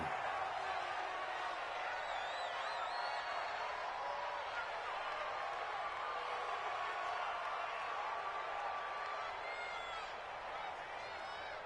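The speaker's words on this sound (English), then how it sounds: "The crowd here in the Dome making things difficult." Stadium crowd in the Dome during an NFL playoff football game forms a steady, distant roar under continuous commentary.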